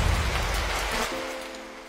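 Heavy rain pours down as a steady, dense hiss close by, easing slightly toward the end, with no voices.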